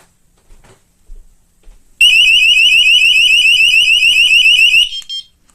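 Tiiwee X1 home alarm set off by its motion detector: a loud, piercing electronic siren blares for about three seconds, then cuts off, with a few faint clicks and handling sounds before and after.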